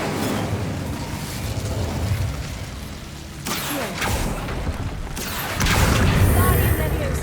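Incendio fire spell cast in Hogwarts Legacy, a sudden whooshing burst of flame that flares twice over a steady game backdrop, the second blast louder and sustained.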